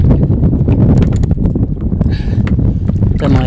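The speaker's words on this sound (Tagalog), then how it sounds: "Pandar muna tayo ng makina." A fishing boat engine starting up: a close, loud low rumble with a steady knocking pulse runs throughout, and brief bursts of higher hiss come in near the end.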